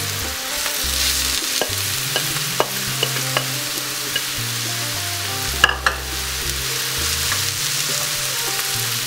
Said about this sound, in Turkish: 3 dakika piştikten sonra pazılarımızı tavamıza döküyoruz